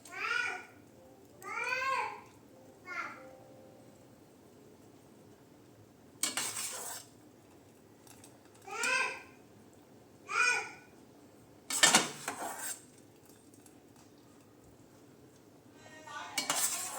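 Layers of rice for chicken dum biryani are spread in a pot with a spoon, giving a few separate scraping, clattering bursts. Short high vocal sounds break in between them against a quiet background.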